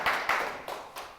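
A few sparse, faint hand claps from an audience at a political talk event, four separate claps spaced out rather than a full round of applause.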